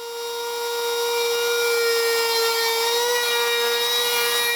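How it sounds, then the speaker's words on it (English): A small trim router runs steadily with a high, even whine while it cuts wood for a custom door hinge. The motor tone holds constant for several seconds with a slight pitch dip near the end, and no one speaks. "I decided to switch over to my small trim router."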